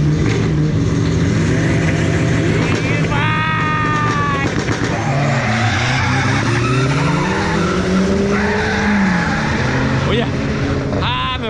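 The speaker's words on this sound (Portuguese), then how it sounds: "Final que jogou marcha, ele colou no chão e foi embora, esfregando." A drag racing car launches and tears down the track, tires squealing and skidding under a loud engine whose pitch climbs through gear changes, heard close from the trackside press area with people talking over it.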